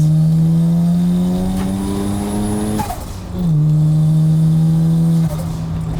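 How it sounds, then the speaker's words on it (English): A 400-horsepower 1987 Mazda RX-7 FC with a rotary engine climbs loudly through the revs in long rising pulls, drops sharply at each gear change, then pulls again, heard from inside the car. "It's been too long since I've driven a rotary."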